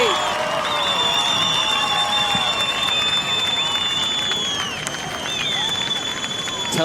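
Crowd cheering for surfer Filipe Toledo at a pro surfing contest, a steady wash of distant applause and shouts with whistling tones drifting over it, continuous throughout.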